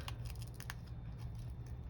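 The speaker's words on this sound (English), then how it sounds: "I'm going to do it with the scissors only so that I can go around bits and pieces" Scissors snip steadily through a paper floral photo mat at close range, a run of quiet, regular cuts over a faint background hum.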